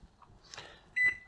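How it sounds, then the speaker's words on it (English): An LG microwave oven gives a short electronic beep once the stop button is pressed, a single clear tone following a faint button click in a quiet kitchen. "I'm going to press stop. You hear the beeping."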